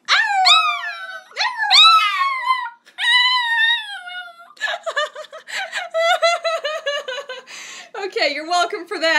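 A dog gives a few drawn-out howls, then yips and whines rapidly, while a person laughs along close by.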